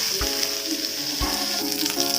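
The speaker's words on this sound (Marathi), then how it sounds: "कांदे टाकले आहे मी तव्यावरती, छान असे भाजून घेणार अगोदर मी कांदे" Steady crackling sizzle of onions roasting on a hot griddle, with a couple of soft low thumps as they are moved about.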